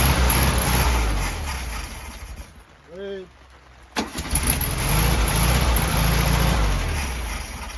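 A 1969 VW Beetle engine that had sat for 30 years runs roughly, stalls briefly, then catches and settles back into a loud, steady idle close by.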